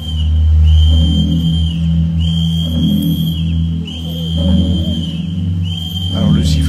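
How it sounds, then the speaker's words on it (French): A steady whistle tone sounds repeatedly in sustained blasts to guide a blindfolded performer at an outdoor martial arts festival show, under a loud, busy crowd and a commentator's voice. "Alors le sifflet bien sûr pour qu'ils puissent se repérer"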